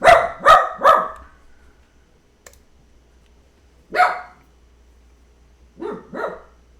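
A dog barks three times in quick succession, then a single bark after a pause, followed by two more close together, fairly near and loud.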